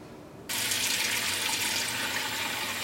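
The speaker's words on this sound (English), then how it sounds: "I'm using some lukewarm water and dish soap, and I plan to gently rinse the fiber" Lukewarm tap water starts running abruptly and keeps a steady, close, full rushing flow into a sink for rinsing food-coloring-dyed speckled roving fiber, with no talk.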